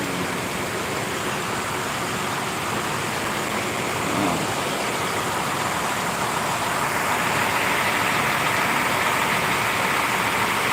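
A bus engine idles at a departure platform in a Pekanbaru bus terminal, a steady low rumble that continues throughout under broad terminal and traffic noise, with no one speaking.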